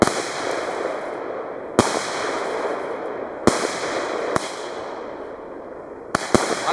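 A Vortex 2 Tiger firework fires its gold effect shots, sharp cracking bursts every second or so, each followed by a fading crackling hiss of sparkling gold, loud and outdoors.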